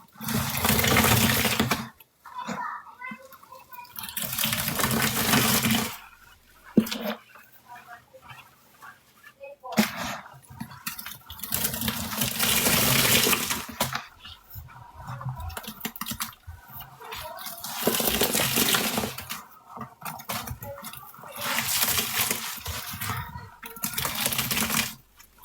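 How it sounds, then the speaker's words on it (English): Laundry powder bombs splash into water and churn up suds, loud sloshing bursts separated by brief pauses, with a voice talking at times in between. "This is gonna be splashing."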